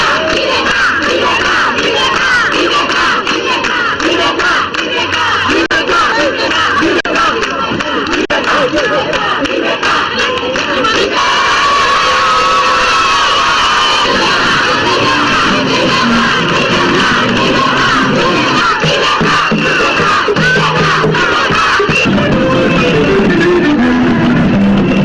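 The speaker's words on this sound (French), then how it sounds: "le président de la République, Ibrahim Boubacar Keïta, a eu droit ce mardi encore à un véritable bain de foule" Large crowd cheering and shouting during a street walkabout for Malian president Ibrahim Boubacar Keïta, a loud, dense, continuous roar of voices with whistles and chanting throughout.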